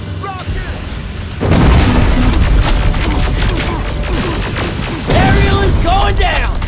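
Rocket explosions in the game Terminator Resistance boom loudly and continuously, with heavy crashing blasts and debris layered over a dense battle din, a second wave of impacts hitting near the end amid shouted voices.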